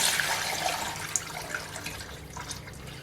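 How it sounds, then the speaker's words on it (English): Clear liquid ghee is poured from one pan into another, a faint, soft trickling and splashing of liquid with a few small drips, heard alone without talk. "So now I'm pouring off the clear ghee into another pan."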